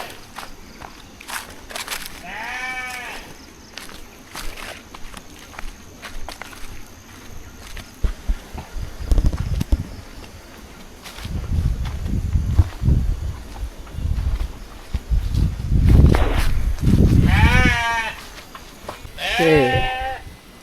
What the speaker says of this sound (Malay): kita boleh tengok kambing